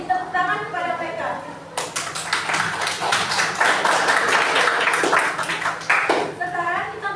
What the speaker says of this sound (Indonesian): Beri tepuk tangan kepada mereka.